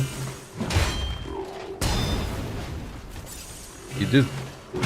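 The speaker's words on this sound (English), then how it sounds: "forgot about the explosion" An explosion in the video game Lies of P, heavy booming thuds with short rumbling tails, several hits spaced across the moment, loud and close, with game effects layered around them.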